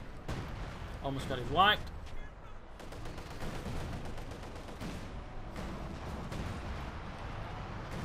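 Heavy artillery fire from a KV-2 tank shelling a unit in Company of Heroes 2, with booming impacts amid continuous battle noise, under a voice talking.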